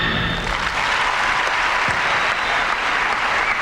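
An arena crowd at a men's short program figure skating event applauds steadily after a skater's fall, a dense wash of clapping that holds at even loudness throughout with no voices on top.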